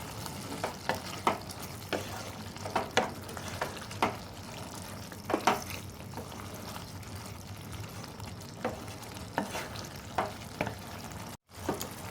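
Chicken keema stirred in a pan with chopped green chilli and coriander leaves: a gentle frying sizzle runs throughout, with a spoon scraping and clinking against the pan at irregular intervals, close up and without talk.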